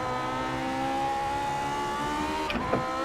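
A race car engine at Lime Rock Park holds a steady high whine under full throttle, a continuous close drone with a short bump of shifting pitch near the end.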